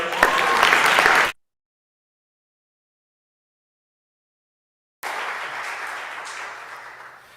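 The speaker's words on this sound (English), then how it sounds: "Can we have another round of applause for Rachel?" Audience applause for Rachel at a unity awards ceremony, dense clapping heard in two bursts separated by a long silent gap, the second fading gradually.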